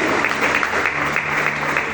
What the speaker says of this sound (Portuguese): Que as palmas louvam o Senhor.